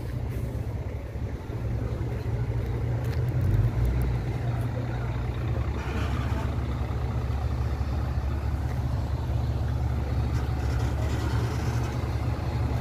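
A truck being maneuvered inside a building for window film installation, its engine idling as a low, steady rumble throughout, close and unbroken.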